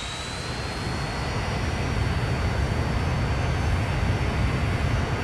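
A jet aircraft in the Transport Fever game roars steadily with a broad, even engine wash and a thin high whine over it, heard alone without talk.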